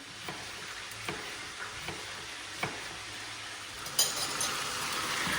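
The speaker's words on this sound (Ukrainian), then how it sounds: "М'яско знову підсмажилось, ми його залишали на деякий час, не чіпали." Meat for Uzbek plov sizzles steadily in a hot pan, a constant frying hiss broken by a few soft clicks of a utensil, with a louder stir and crackle toward the end.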